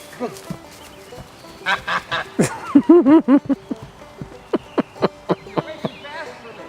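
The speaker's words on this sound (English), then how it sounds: "to guard their chickens, they got a baby goose named Lexi" A young goose gives a run of short, squeaky honks and peeps, close by, first in a busy cluster and then spaced out in a steady series.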